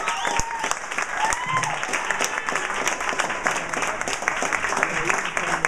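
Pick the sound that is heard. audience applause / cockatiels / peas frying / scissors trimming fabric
audience applause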